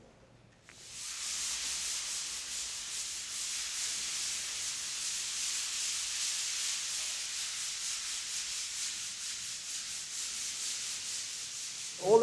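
Steady, continuous abrasive rubbing of sanding against a stucco wall, a sustained gritty hiss that runs unbroken for several seconds with no talking.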